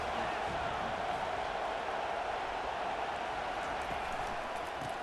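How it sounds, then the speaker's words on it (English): A video game college football stadium crowd roars in a steady, dense wall of cheering noise that stays loud and unbroken throughout, with no distinct voices standing out. "This crowd bringing an ear-splitting welcome to their visitors."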